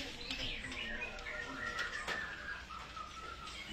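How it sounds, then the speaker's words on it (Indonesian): A magpie robin calls with faint, varied whistled phrases and chirps that rise and fall over a soft, noisy background, sounding somewhat distant. "yang ini kacer."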